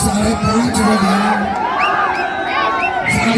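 A large crowd of supporters gathered for Prashant Kishor shouts and cheers outdoors, a dense, continuous roar of many voices with scattered whoops rising above it throughout.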